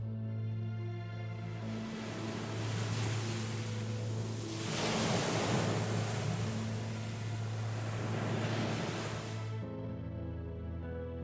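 Storm-tossed waves at sea on a pitch-dark night, driven by wind and rain, roaring as a steady wash of surf that swells louder mid-way, over a low sustained hum.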